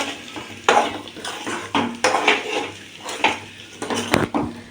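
A spoon scrapes and knocks around a pan while a salted potato dish is stirred, rhythmic metallic strokes about once a second with a light sizzle underneath.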